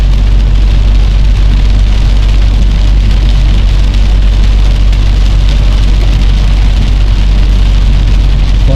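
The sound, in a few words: heavy rain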